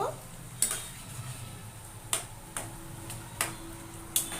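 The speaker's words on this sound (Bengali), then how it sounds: "এবার নেড়ে চেড়ে নেব" Chickpea, paneer and potato curry being stirred in a pan, with a spoon clinking against the metal every second or so in sharp, close taps over a soft sizzle.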